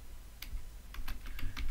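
Keys click on a computer keyboard while code is typed, a few soft scattered taps over a steady low hum.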